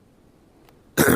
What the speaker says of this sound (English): just clear my throat there